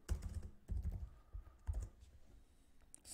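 Bursts of keystrokes on a computer keyboard, close and crisp, clattering in quick clusters with short pauses between them and no talking.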